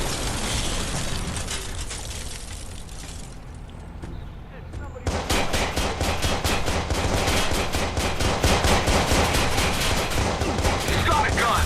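Gunfire in the video game Watch Dogs, with dense rapid bursts of shots close and loud, a short lull, then sustained automatic fire and crackling impacts, with voices heard underneath.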